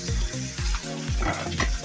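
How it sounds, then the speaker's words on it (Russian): Vendace fish fry in a pan with a steady, crackling sizzle that runs close and constant, broken by a few low thumps from handling the pan. "положилась на сковородку, так что начинаем ее жарить"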